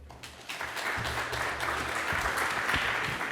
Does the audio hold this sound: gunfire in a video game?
no